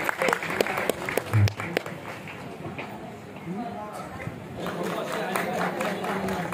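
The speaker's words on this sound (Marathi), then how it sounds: "जोरदार टाळा वाजवून स्पर्धकांचे" Loud audience applause at a Marathi devotional anniversary festival for Sant Narhari Maharaj in Kamthi, honouring contestants; dense, sustained clapping across the whole stretch, swelling again near the end, with voices mixed in.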